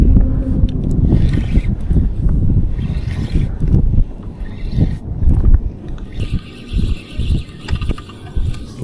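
Strong wind at sea buffets the microphone during kayak fishing off Cebu in the Philippines, a loud continuous rumbling roar with gusty swells and some splashing, with no talk heard.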